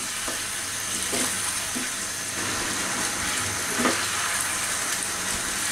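Chicken korma sizzles and fries in a pan over high heat, a steady close hiss with occasional stirring scrapes and no talking.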